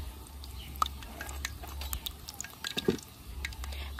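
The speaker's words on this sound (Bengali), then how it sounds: "বৃষ্টির ফোঁটা পড়তেছে।" Raindrops fall during a rainy spell beside a home kitchen where pitha cakes are cooked, making light, irregular drips and patters scattered over a soft, steady background.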